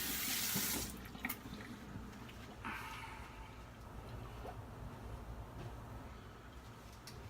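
Tap water runs into a bathroom sink to rinse off after a shave, a steady close-up gush that starts strongly and settles into a continuous flow with small splashes.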